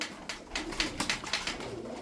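Birds cooing and calling close by, a soft run of repeated coos from tumbler pigeons over a steady outdoor hiss.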